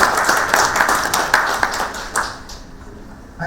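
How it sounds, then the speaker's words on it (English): An audience at a memorial lecture applauds, a brief burst of dense clapping close by that thins out and fades within a few seconds. "people in the front rows are clapping much louder than the people who are behind"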